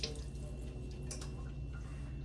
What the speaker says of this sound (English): hands are washed